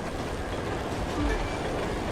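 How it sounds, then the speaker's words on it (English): A train rolls past during a motorbike race in the video game The Crew 2, a steady dense rumble that holds even and loud for the whole moment, swelling slightly near the middle. "So let's go faster to beat the train and press on."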